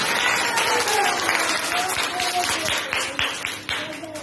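A crowd at a Sindhi speech event breaks into loud, sustained applause, many hands clapping densely before the sound thins toward the end.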